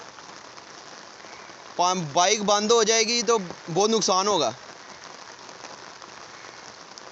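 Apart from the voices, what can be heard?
heavy rain and floodwater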